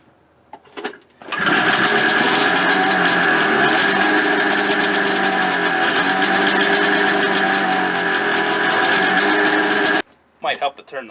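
A 1985 Ski-Doo Formula MX 470 snowmobile engine fires up and runs loud and steady for about nine seconds before cutting off, with brief handling noises just before and after.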